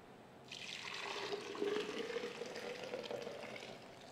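Strained mint lemonade is poured into a jug, giving a soft, continuous liquid stream close by that runs for several seconds without talk.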